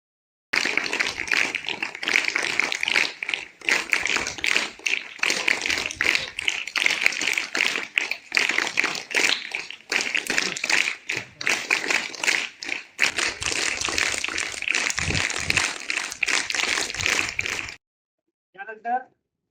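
A school audience claps continuously to welcome a guest with flowers, dense sustained applause with uneven bursts, close and loud, stopping abruptly near the end.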